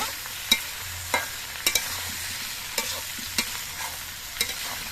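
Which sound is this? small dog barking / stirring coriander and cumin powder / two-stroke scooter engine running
stirring coriander and cumin powder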